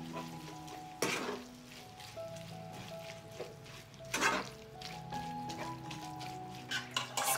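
A spoon stirs onion, ground sweet paprika, dried seasoning and bay leaves in a pot, a soft sizzle underneath with a few scraping knocks of the utensil against the pot, close and fairly quiet.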